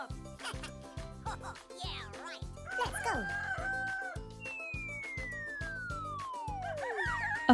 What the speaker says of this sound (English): the farm echoes with the crowing of Rooster Red